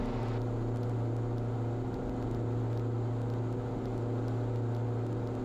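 A Diamond DA42 twin-engine aircraft climbs after takeoff, its engines giving a loud, steady droning hum with strong low tonal layers that fill the cabin without letup.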